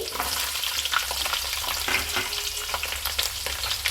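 Shallots, curry leaves, garlic and fenugreek sautéing in oil in a pan for a pickle, a dense steady sizzle with close stirring scrapes and crackles throughout, no talking.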